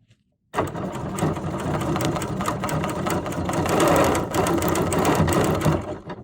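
A serger sewing machine stitching yarn in a circle runs loud and steady after a brief quiet start, its rapid mechanical whir continuing with a slight swell in the middle.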